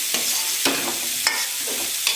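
Bay leaf, whole peppercorns, cumin and coriander powder fry in oil, a steady sizzle broken by a few distinct scraping stirs of the spoon.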